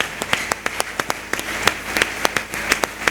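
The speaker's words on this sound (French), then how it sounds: "Na bandi kobeta maboko." A church worship congregation claps hands together in a steady rhythmic beat, sharp and close, with each clap landing regularly across the whole stretch and a soft murmur of voices beneath.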